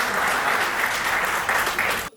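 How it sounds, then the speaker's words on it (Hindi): An audience at a Holi poetry gathering breaks into dense, steady applause to welcome poet Gaurav Chauhan, a continuous wash of clapping with small surges before it cuts off abruptly. "आपकी तालियां एक बार हाथ उठा के बजाएं तो मैं उनको बुलाऊं।"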